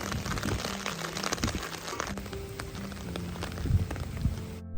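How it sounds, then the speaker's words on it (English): Rain falling steadily outside during a stormy week, a soft continuous patter of drops on surfaces with scattered crackles, faint and unhurried. "we are finally getting some much needed rain"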